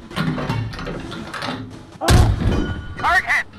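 A single heavy cannon boom from an M1 Abrams tank in the PC game Gunner HEAT, a sharp thudding blast following shouted crew commands, with voices continuing around it.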